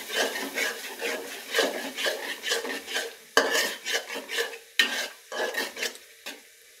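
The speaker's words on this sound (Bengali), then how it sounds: "এগুলো দিয়ে ভালো করে আমি মিক্স করে নেব।" A spoon scrapes and stirs spices into chicken in a pan in quick rhythmic strokes, with sharp metal clacks against the pan over a light sizzle, close by and with no talking.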